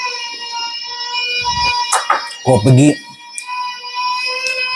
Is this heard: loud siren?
yes